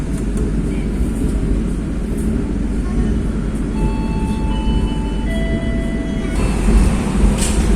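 A Ranggajati passenger train pulls out of Jember station in Indonesia, heard from on board as a steady low rumble with a few faint tonal whines. The noise swells louder near the end.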